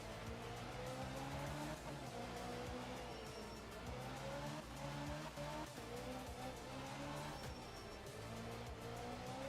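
Alpine rally car in the video game Art of Rally, its engine droning steadily with rising and falling revs and intermittent tire squeal and skidding, fairly quiet and continuous with no talk.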